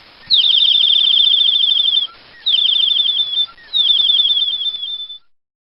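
A bright, high chirping trill sounds in three quick runs separated by short pauses, clear and close against silence.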